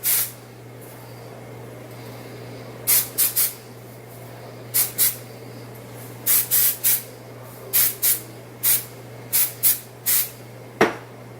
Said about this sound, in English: I will use a little bit of the Bedhead Masterpiece. This is a shine hairspray